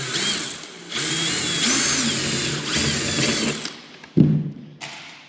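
A power drill runs in loud, sustained bursts while drilling parts for riveting on a full-size Sopwith Camel aircraft, briefly stopping and restarting, with a thud near the end before a final short whir.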